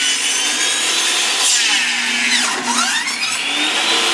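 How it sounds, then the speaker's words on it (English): A saw cutting through wood, a loud continuous rasping grind close by, with the pitch dipping and rising as the blade bears down and eases off. "Is that your first time running a saw like that, or what?"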